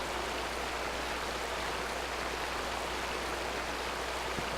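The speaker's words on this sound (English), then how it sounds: "If we could get away from that loud sound of the river, that'd be good" A loud, steady rush of river water runs in the video game Aidyn Chronicles, a broad continuous wash of flowing noise that stays even throughout with no voices over it.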